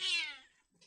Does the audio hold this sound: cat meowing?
yes